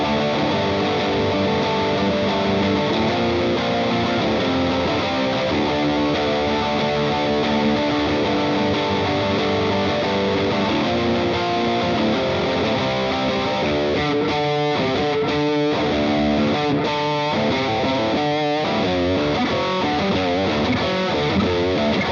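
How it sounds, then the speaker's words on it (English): An electric guitar plays through a Fender Blues Junior amp, driven into overdrive by a Blackstar HD Dual distortion pedal, producing a thick, sustained distorted tone with chords and riffs that run continuously and loudly, no talking. "I'm also running a Blackstar HD Dual distortion pedal to kick it into"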